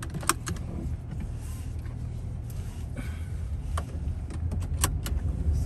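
Riding inside a car in Malaysia, a low steady cabin hum of the engine and road with scattered sharp clicks and jingles like keys or small objects rattling, fairly quiet and with no talking.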